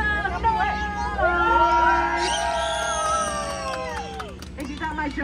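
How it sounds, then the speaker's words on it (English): Passengers on a Jungle Cruise boat shout and cheer together in a loud, excited burst, with overlapping voices and high yells rising and falling across the moment. "If you laughed at my jokes today, make some noise!"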